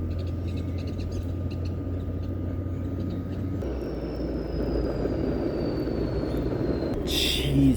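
A pizza oven's fan runs as a steady broadband whoosh with a low hum, nearby and continuous, getting a little louder toward the end, with a faint whine laid over it.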